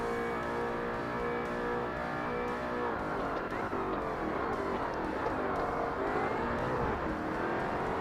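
A Volvo race car in Forza Motorsport makes an odd engine noise, a steady loud droning whine at sustained revs that shifts in pitch midway through, running continuously with no talk over it.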